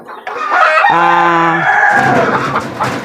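Farm chickens cluck while a rooster lets out a loud, close crow, the calls overlapping in a short burst.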